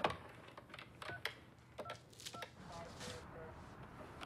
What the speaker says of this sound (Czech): Tak zvedni telefon.